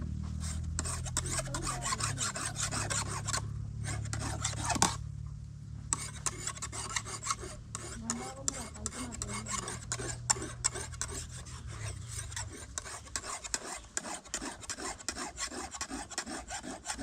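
A hand file works steadily in a village yard to sharpen a blade by hand, with no machine. Close, continuous scraping strokes run throughout, broken by a brief pause near the middle.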